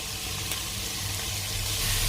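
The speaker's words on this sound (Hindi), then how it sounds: "अभी मैं इसमें लहसुन डालने वाला हूँ।" Garlic goes into onions frying in a pan for chicken jalfrezi over medium-high heat, giving a loud, steady sizzle with a brief crackle near the start, alone with no talking.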